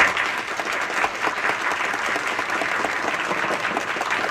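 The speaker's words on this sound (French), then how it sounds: "on applaudit les maires" Applause for the mayors at a Soirée Canadienne celebration in Compton, Québec: a dense, steady wash of clapping from a sizeable audience, even and sustained throughout with no voices standing out.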